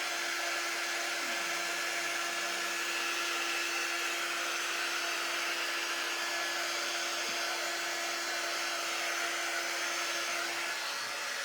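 A hair dryer blows on wet paint on a craft tray, giving a steady, close, unbroken whirring hiss with a constant motor hum and no voices.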